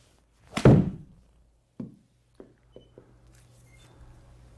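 A single solid thump of a golf club striking the ball on a low-lofted swing at a lesson, followed by a few fainter scattered knocks and quiet.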